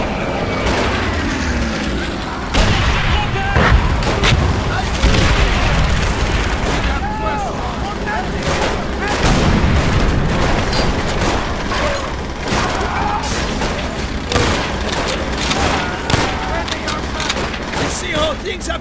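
Gunfire and explosions rage in the World War II shooter Call of Duty: World at War, with dense, continuous booms, bursts and rattling shots sustained loudly throughout, mixed with shouting voices.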